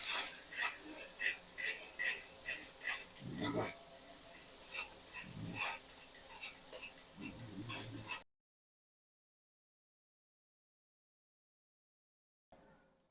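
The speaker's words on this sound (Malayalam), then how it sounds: "ഇഞ്ചിയും വെളുത്തുള്ളിയും കൂടി ആദ്യം ഇട്ട് കൊടുക്കാം. ഒന്ന് ഫ്രൈ ആക്കി എടുക്കാം." Ginger and garlic frying in a pan for chilli pork, with steady sizzling and occasional stirring and scraping for about eight seconds, then silence.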